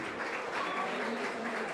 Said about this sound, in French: Faites du tonnerre d'applaudissements pour vous déjà aussi,